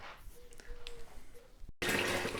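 Cold water running into a Belfast sink while chilling homebrew wort, first a faint trickle with small clinks, then an abrupt loud steady gush of water after a brief cut.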